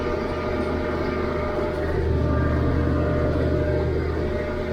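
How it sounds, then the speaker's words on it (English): A 1977 Massey Ferguson 1105 tractor rated at about 117 PTO horsepower runs at a steady engine drone while pulling a Krone 2801CV mower through hay, loud and constant with no speech. "This is a 1977 Massey Ferguson 1105."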